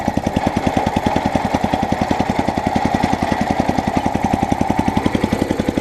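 A scrap lawnmower engine runs steadily on low revs, a loud, close, even chugging pulse of rapid firing strokes with a rough mechanical rattle, alone without talk.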